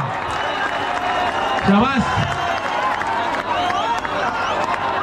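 Crowd applauding and cheering for a five-tier dahi handi human pyramid formed by a Govinda troupe at Roha, a steady roar of clapping and babble with an announcer's voice speaking loudly over it throughout.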